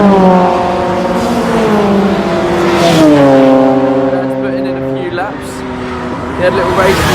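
Race cars running past the pit wall during a V8 race, a loud droning engine note that rises and falls in pitch as cars pass close by, with someone talking over it.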